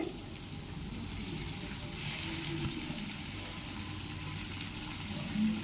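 Smashed pieces of sheep blood and onions fry in oil in a pan, giving a steady, even sizzle with a soft bubbling hiss that continues throughout.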